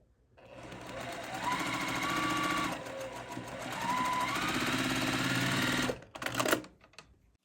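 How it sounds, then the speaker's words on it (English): A sewing machine stitches a 1/4 inch quilt seam in two sustained runs with a brief slowdown between them, ending in a few sharp mechanical clicks; close and fairly quiet. "sew it all together with a 1/4 inch seam allowance"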